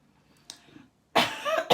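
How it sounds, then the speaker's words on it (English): A cough or throat-clearing bursts out loud and close after a near-silent lull, then a shorter second burst follows moments later. "Still have some coughing going on."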